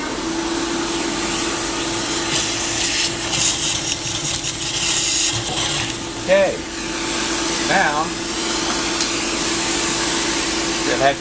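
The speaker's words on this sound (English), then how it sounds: "Now I'm going to just use the shop vac and take out all the rest of the ashes that are in the stove." A shop vac runs steadily up close while sucking ashes out of an Upland 207 pellet stove, a constant loud whine with rattles and thumps of the nozzle, and someone briefly speaks over it.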